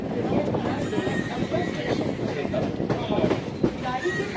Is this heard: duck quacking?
no